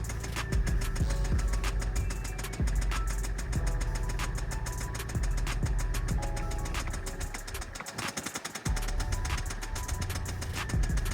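An ailing Audi A3 8P engine runs steadily nearby with a rough, uneven rumble and faint knocking, briefly stumbling and dropping out for a moment before catching again.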